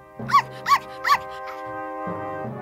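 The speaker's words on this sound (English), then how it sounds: "At that moment, she saw a puppy a little further away." A cartoon puppy gives three quick, evenly spaced barks up close, followed by a steady sustained musical tone.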